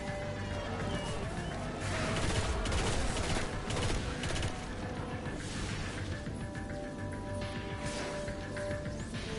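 A pulse rifle in a video game fires in dense, rapid bursts, a loud continuous clatter of shots that rises in the middle and then settles into steady fire.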